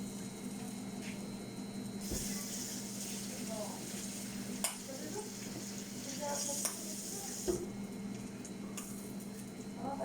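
Marinated, egg-coated chicken pieces sizzle in a hot saucepan, a steady quiet frying hiss with occasional clinks and scrapes of utensils.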